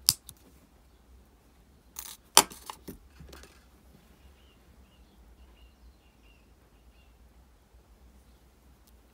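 Jewelry wire cut for a wire-wrapped swirl-and-curl pendant, a few sharp metallic snips and clicks near the start, then a quiet background.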